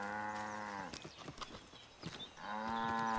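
A cow in the video game Assassin's Creed 3 gives two long, loud, close moos, one at the start and another near the end, separated by a stretch of shuffling in-game movement.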